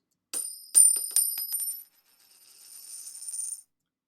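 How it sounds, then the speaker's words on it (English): Metal coins clink and jingle in a quick burst of bright taps, then settle into a softer, shimmering tinkle before falling silent. "so loud was the sound of tinkling gold"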